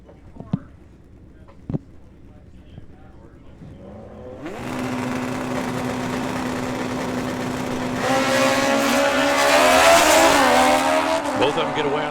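Two drag racing cars launch off the line at a Hangover Nationals drag race, with engines rising from a low idle into a loud, sustained roar that swells further as they accelerate away, while an announcer talks over it.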